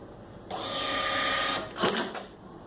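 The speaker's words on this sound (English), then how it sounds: "Now print test page." A WeP TH 400 II receipt printer runs off a test page, giving a steady whirring print buzz for about a second, then a short burst of clattering as the paper feeds and cuts, fairly close and alone.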